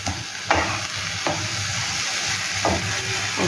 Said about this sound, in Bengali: এবার এই চিনিটাকে ভালো করে আমের সাথে মিশিয়ে নেব।